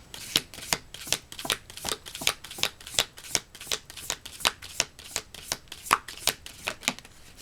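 Tarot cards are shuffled and drawn at close range, making a fast, steady run of crisp flicks and riffles that repeats evenly throughout, with no talk.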